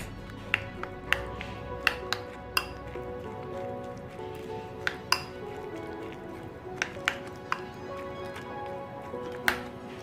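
Finely chopped vegetables with green chilli are stirred in a bowl for moong dal bread toast, giving irregular sharp clinks of a spoon against the bowl over a soft background rustle.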